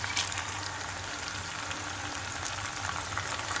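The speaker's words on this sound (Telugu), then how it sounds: "ఇవి కొంచెం వేగిన తర్వాత ఇగో ఎండుమిర్చి కూడా వేస్తున్నాం" Onions, green chillies and garlic frying in a pan with dried red chillies added, giving a steady close sizzle and crackle that holds evenly from start to end with no talking.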